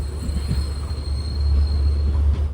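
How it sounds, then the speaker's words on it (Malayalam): Intercity Express train pulling out of Nileshwaram railway station, a steady low rumble of rolling wagons with faint wheel squeal, close and continuous. "അങ്ങനെ ഇതാ നീലേശ്വരത്ത് നിന്ന് ട്രെയിൻ എടുത്തിരിക്കുകയാണ്"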